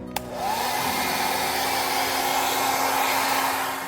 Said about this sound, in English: we're gonna take the blow dryer and we're gonna blow dry it.